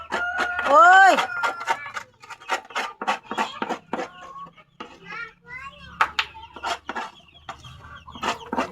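Chickens and a rooster cluck in a backyard coop, with a loud, rising crow-like call near the start and then scattered clucks, while voices shout and children chatter nearby.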